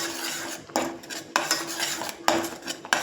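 A spoon scrapes and clacks against a metal pot while ginger garlic paste is mixed into a paya curry, with loud irregular strokes roughly every half second over a low, faint simmer.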